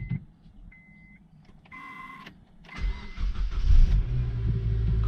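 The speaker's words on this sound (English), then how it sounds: "let's go ahead and try to start this thing." A 2005 Honda Accord, just fitted with a new clutch, chimes with dash warning tones, then the starter whirs briefly before the engine catches and settles into a steady, moderately loud idle.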